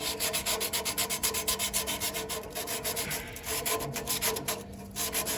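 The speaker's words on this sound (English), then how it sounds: "you can use a piece of emery cloth and sand that down" Emery cloth is rubbed back and forth over a metal part on an air-conditioning compressor to clean it for a good ground, making fast, rhythmic scraping strokes that are close and continuous, with no talking.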